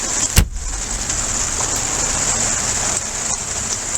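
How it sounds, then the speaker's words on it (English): Heavy rain pours down on a Palomino pop-up truck camper, a dense, steady hiss with a sharp knock near the start and no talk. "It's pouring down rain right now, if you can hear."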